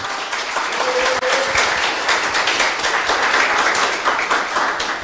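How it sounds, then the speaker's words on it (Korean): Warm, steady applause from a party broadcast audience honoring former lawmaker Son Hye-won, dense clapping filling the whole stretch with no talk over it. "한번 박수 부탁드리겠습니다"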